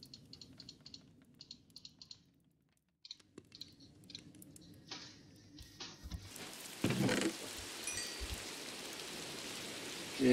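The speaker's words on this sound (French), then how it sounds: "Génial, il pleut." Rain begins partway through in a survival video game. Its broad hiss swells and stays steady, following a stretch of sparse keyboard clicks and quiet game sounds. No one talks.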